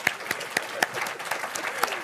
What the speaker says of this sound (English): Everyone clap for Cristiano putting that up.